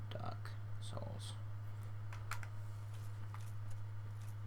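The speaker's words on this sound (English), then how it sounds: "I'm going to have to stop running for a second so I can type" Faint, scattered clicks of keys on a computer keyboard, a few quick taps at a time with gaps between, set against a steady low hum, while a voice murmurs quietly at the start.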